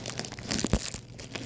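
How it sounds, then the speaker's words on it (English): Brief crinkling and ripping of plastic packaging being torn open close by, with a few crisp bursts of noise. "I'm gonna try to just tear it"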